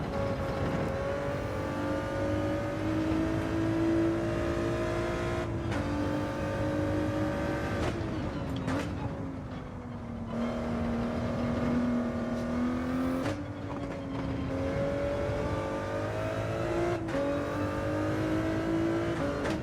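A Ford race car on hard tires in the racing game Gran Turismo 7 drones steadily at high revs, its engine pitch dipping at gear changes and braking before climbing again, loud and continuous.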